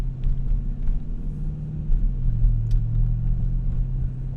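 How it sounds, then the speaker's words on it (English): A Dodge Durango V8 fitted with an MRT 3-inch exhaust cruises gently with a deep, steady rumble heard from inside the cabin, low and even with slight swells in pitch. "Definitely has a V8 sound. Sounds pretty tough and ready."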